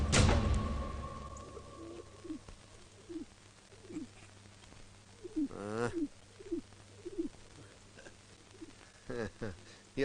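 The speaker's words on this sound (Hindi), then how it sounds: "ये पंछी ससुरा अमरपुर से उड़कर आया लगता है।" Pigeon or dove cooing in repeated soft, rising-falling calls, moderately close, with a brief louder flurry near the middle and a few more coos toward the end over a low ambient hum.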